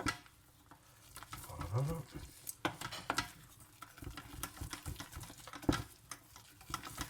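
Sifted flour being stirred into melted butter and water in a pan off the heat for choux paste, a soft, irregular scraping and thudding of the spoon, fairly quiet, with a brief spoken word.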